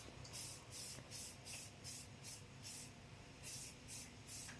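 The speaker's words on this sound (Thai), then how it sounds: "แล้วเราก็จะมาทำการพ่นสีจริงในเฉดสีแรกนะครับ" Samurai spray paint, a light grey shade, hisses from an aerosol can in a rapid series of short bursts, about a dozen even pulses of spray over steady low background noise.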